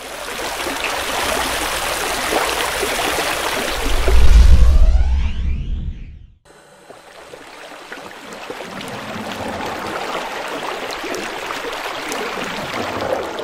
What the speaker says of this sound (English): The surface runoff is diverted through a water channel to a silt trap.